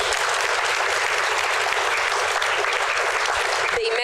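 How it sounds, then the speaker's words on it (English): Sustained, dense applause from a conference audience at a session on pharmaceutical strategy for Europe, loud and even throughout, stopping abruptly just before the end. "You can clap your hands, of course."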